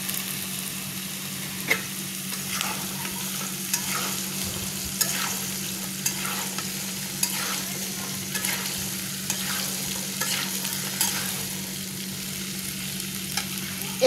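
Small cubes of potato fry in hot oil for a dried loitta fish curry, a steady close sizzle with scraping stirs and occasional clinks of the spatula against the pan, no voices.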